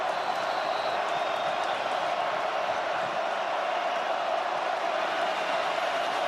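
A sellout stadium crowd at a Washington vs Rutgers college football game roars steadily after a long field goal attempt, a broad, sustained wash of cheering with no breaks.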